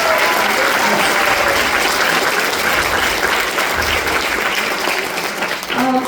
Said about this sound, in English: another round of applause for Mr. Russ Henning